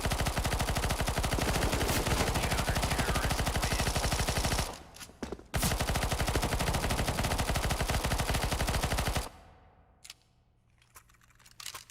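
Rapid machine gun fire rattles in a CS:GO match, long continuous bursts broken by a short pause, then stopping into quieter game sounds.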